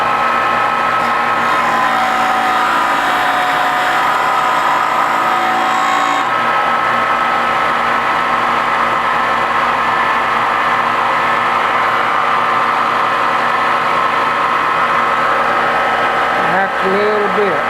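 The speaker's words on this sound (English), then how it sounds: "Now you won't be able to hear me when I turn this grinder on probably," Bench grinder running steadily while truing up a turning blank, a loud continuous whine and hum throughout, with a person talking over it.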